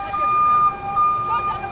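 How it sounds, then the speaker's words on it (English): A steady high electronic siren sounds over a noisy background in Gaza during the Israel-Hamas war, breaking off briefly and returning. "I'm sorry for the sirens, they're going off all the time."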